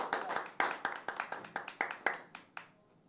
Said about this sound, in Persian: آقای آریان بازی رو ترک میکنن، تشویقشون کنیم.